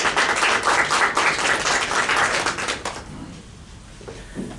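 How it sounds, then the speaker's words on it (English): A seated audience gives loud, sustained applause for a speaker introduced to talk about procrastination, dense clapping for about three seconds before it thins out and fades. "let's give him a big round of applause"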